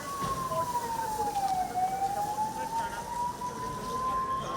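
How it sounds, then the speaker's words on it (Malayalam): A single wailing air raid warning siren during a mock drill slowly falls in pitch then rises again, steady and fairly loud over a low background rumble. "സൈറൺ മുഴങ്ങിക്കഴിഞ്ഞാൽ എത്രയും പെട്ടെന്ന് സൈഡിലേക്ക് മാറിയിരിക്കേണ്ടതാണ്."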